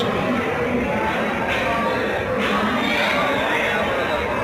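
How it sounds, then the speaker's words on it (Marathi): A dense crowd fills Pune railway station as a train for Mumbai stands at the platform, a constant loud babble of many voices and footsteps with someone talking nearby. "कसली गर्दी आहे पुणे स्टेशनला."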